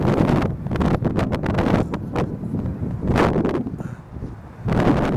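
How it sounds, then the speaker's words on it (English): Strong gusts buffet the microphone outdoors near the Washington Monument in Washington, D.C. in December, a loud, continuous rumbling roar that surges and drops in waves with brief lulls. "it's not really so much the cold, Chrissy, it's the wind, which is now destroying everything"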